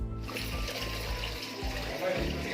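Water trickles steadily at the source of the Godavari river at Brahmagiri near Trimbakeshwar, a gentle continuous running flow under people talking nearby.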